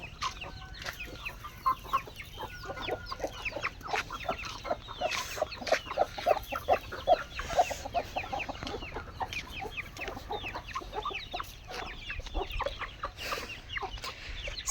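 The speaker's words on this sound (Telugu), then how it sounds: "సో ఇవి ప్రజెంట్గా ఉన్న కోళ్ళు" A flock of backyard hens, with a single rooster among them, clucks steadily throughout, a dense mix of overlapping calls and short chirps at moderate distance with no talking.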